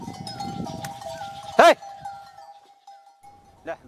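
Goats grazing in a forest near Gwaldam, Uttarakhand, give a single loud, close bleat, then a fainter one, over a steady whistle-like tone and some low rustling.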